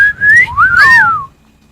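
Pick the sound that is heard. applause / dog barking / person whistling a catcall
person whistling a catcall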